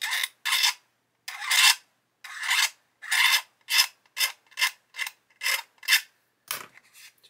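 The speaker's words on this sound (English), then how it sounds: "So we'll just scrape away a bit more." A blade scraping plastic on a part of a 1/24 scale Airfix Spitfire Mk.IXc model kit, a series of about a dozen short rasping strokes in an uneven rhythm, close and crisp, with silence between strokes.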